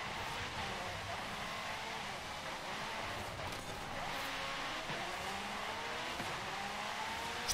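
A Lamborghini in the racing game Forza Horizon 5 drones through its engine note at moderate level, with brief tire squeals and skids mixed into a steady game soundscape.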